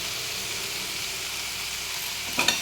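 Salted onions and green chillies sizzle steadily in a hot pan, a dense continuous hiss up close, with a brief clatter of a utensil near the end.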